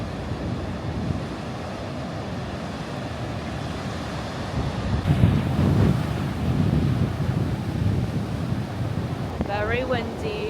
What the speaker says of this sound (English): I don't even know if you can hear me over the sound of the waves